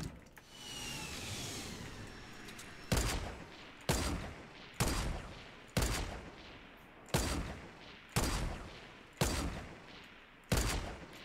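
Gunfire in the PUBG video game: after a stretch of noisy ambience, eight sharp single shots ring out at roughly one-second intervals, each loud with a brief decaying tail, with no talk over them.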